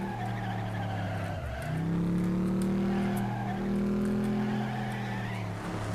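A car in the Flatout racing game, its engine droning loud and close while the tires squeal and skid in long sliding swoops, the engine pitch dipping and climbing again, with no voices.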